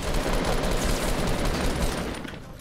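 Rapid bursts of gunfire from across the map in Fortnite, played in duos, crackling steadily and fairly loud for the whole stretch before easing slightly at the end, with no voices over it.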